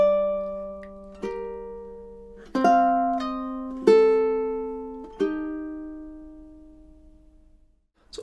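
Ukulele plays the opening two measures of Tárrega's classical piece Adelita: a slow, clear sequence of plucked notes and chords, about five attacks each ringing out and decaying, solo and close with no voice.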